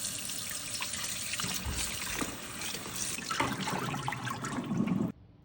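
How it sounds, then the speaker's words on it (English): Tap water runs steadily over turkey necks being washed in a sink, a close, continuous splashing rush with small shifts as the meat is handled, cutting off abruptly near the end. "So the first thing, of course, wash the meat."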